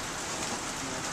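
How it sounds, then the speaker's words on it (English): Steady rain falling outdoors, a dense continuous hiss of drops on surfaces, moderately quiet and unbroken with no voices. "We got rain."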